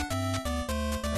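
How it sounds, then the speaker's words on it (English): Defeat jingle from the Adventure Island 2 video game: a short run of bright, bouncy chiptune notes in four quick stepped phrases with a low bass tone under each, alone and clear. "Everyone, this is the sound of defeat."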